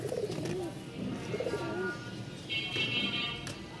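A pair of racer pigeons coos softly and repeatedly in low, rolling phrases, close by, with faint chirps and background noise around them.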